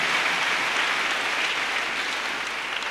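A church congregation claps for the Lord in a sustained wash of dense applause that stays even and loud throughout, with no distinct voices.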